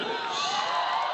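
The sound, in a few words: fans in the stands cheering at volleyball match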